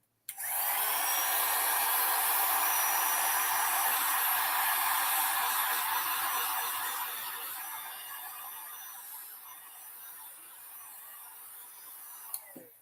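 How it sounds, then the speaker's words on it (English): A heat gun blows a loud, steady roar to dry craft paint between layers, running continuously for most of the span before easing slightly and cutting off near the end. "You bring out the heat gun."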